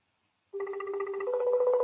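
An outgoing phone call rings out: a clean electronic ringback tone starts abruptly after a brief silence and continues steadily, shifting slightly in pitch partway through.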